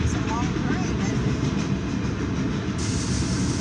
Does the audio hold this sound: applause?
no